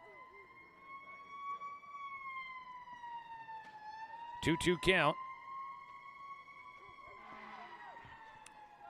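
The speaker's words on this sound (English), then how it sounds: "Hopefully it's not as serious as it sounds with the sirens going by there." Wailing fire engine sirens rise and fall continuously, moderately distant, passing a high school baseball stadium, while someone talks over it.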